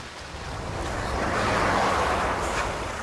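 Steady rain falls outdoors on a barren, industrial landscape, a continuous broadband hiss that swells slightly and holds at a moderate, close level with no voices.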